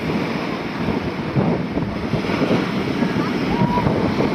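Sea waves roaring and washing up on a beach as the tide comes in, a dense continuous rush of surf mixed with heavy wind buffeting the microphone, loud and close throughout.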